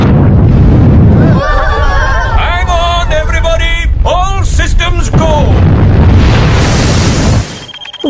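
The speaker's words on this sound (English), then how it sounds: "Blast off." A cartoon elf rocket blasts off in a loud, sustained roaring rush, with whistling, swooping sound effects and excited voices layered over it, fading near the end.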